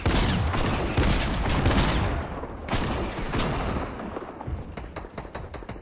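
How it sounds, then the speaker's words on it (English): Fortnite gunfire in dense rapid bursts, a sustained volley for about two seconds, then a lone loud shot and scattered sharp cracks that thin out toward the end, punchy and close. "Slasher, you're shooting me"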